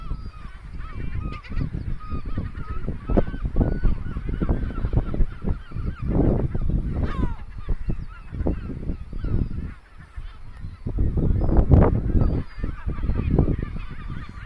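A large flock of seagulls calls on Inchcolm Island, a near, loud and dense chorus of overlapping honking cries that keeps going throughout.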